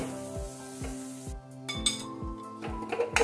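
Metal spoon scraping and clinking against a pan while vada pav potato masala is mixed, regular knocks about every half second, with faint sizzling underneath.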